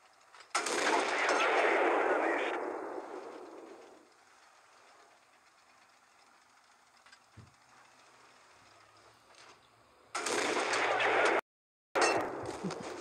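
Video game gunfire comes in dense, loud bursts: a long sustained volley at the start, then a quieter stretch with faint clicks, and two more short bursts near the end.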